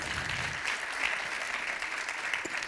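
Applause from the audience at the opening of the 5th Lower Silesian Women's Congress, a steady wash of clapping filling the hall for the whole stretch, moderately loud with no voices over it.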